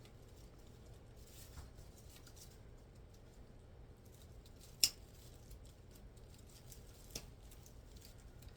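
Scissors snipping a pick stem at an angle for a fall grapevine wreath: a single sharp, close cut stands out in a quiet room, followed later by a fainter second snip, with soft handling noise between.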